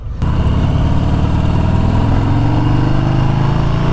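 A 2021 Harley-Davidson Sport Glide engine on a freeway, a loud, steady close-up drone with wind rush that starts abruptly after a short click.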